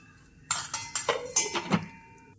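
Metal clinks and scrapes as a lid comes off a cooking pot and a spoon stirs the food inside, a run of sharp knocks and rattles in a quiet kitchen.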